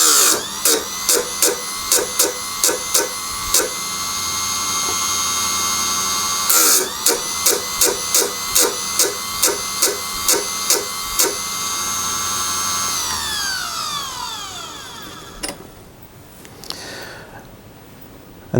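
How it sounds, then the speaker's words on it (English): Drill bit being ground on a Gower four-facet drill sharpener: a run of sharp, evenly spaced rasping clicks with a high ringing whine, a pause, then another regular series and a falling tonal sweep as it winds down. "a four-faceted drill sharpened with the Gower drill sharpener"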